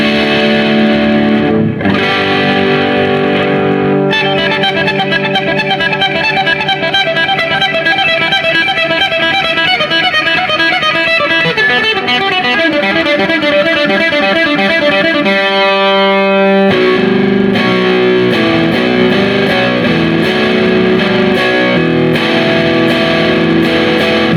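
Distorted electric guitar played through a Laney Lionheart LF 60-112 solid state amp without boost, with sustained chords and a run of quick picked notes, then chugging chords, loud and unbroken.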